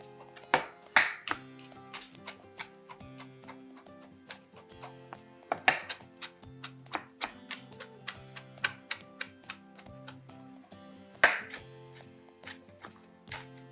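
A knife chops fresh herbs on a cutting board in clusters of sharp, close taps with short pauses between bursts, no voices.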